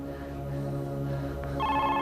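A phone rings with a steady electronic tone, a brighter chiming ring cutting in near the end.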